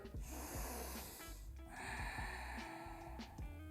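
A deep breath is drawn in during a yoga breathing exercise, heard as a close, airy nasal inhale with snort-like rushes amid quiet background hum.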